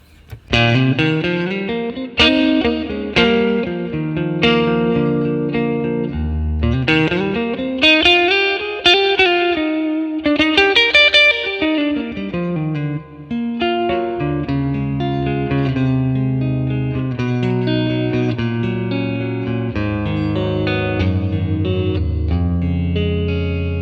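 An electric guitar plays a clean, chimey melodic phrase through a 1957 Fender Tweed amp capture with reverb added, sustained notes and bends ringing loud and close without pause.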